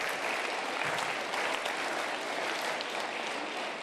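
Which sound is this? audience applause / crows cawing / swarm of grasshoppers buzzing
audience applause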